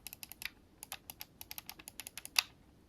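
Clicky face buttons on a GameSir G7 wired Xbox controller are pressed in a quick, crisp run of about twenty sharp clicks, close-up and fairly quiet against a silent background.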